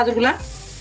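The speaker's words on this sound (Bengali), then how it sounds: "এখন আবার চুলায় বসে দিলাম প্যানটাকে। এখন গাজর এখানে দিয়ে দিব" Grated carrots hit a hot frying pan still coated with semolina while making carrot-semolina halwa barfi, giving a brief, close hiss of sizzling that follows a short clatter.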